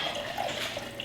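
Water runs from a tap in a kitchen, a faint, steady splashing hiss over about a second while water is collected for boiling.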